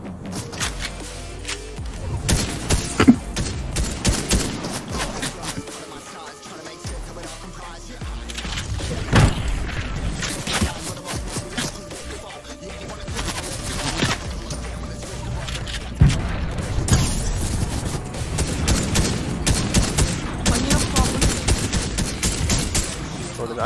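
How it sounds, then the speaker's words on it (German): Rapid bursts of gunfire crackle through a busy Fortnite Chapter 3 soundscape, with repeated volleys and occasional grenade booms, continuing throughout. "Aber genau von da kommen ja die Schüsse."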